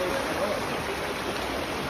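Floodwater of the Begna river pours through a village, a loud steady rushing stream of water filling the whole clip, with no pauses.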